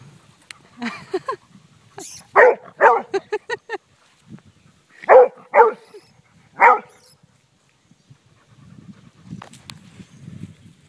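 A Pitbull and a Labrador bark in short, sharp bursts over a mole they are trying to eat, with separate clusters of close barks and a few softer whimpering sounds between them.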